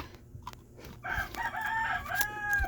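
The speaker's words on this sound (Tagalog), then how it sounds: "Ang ingay ng manok." A rooster crows once, fairly close, with a rising then drawn-out call over faint background noise; no one speaks.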